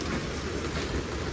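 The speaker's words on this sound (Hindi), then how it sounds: "आज फाइनली बारिश होने लग गई है" Steady rain falls in a dense, even hiss with a low rumble underneath, close and continuous for the whole stretch, with no voices.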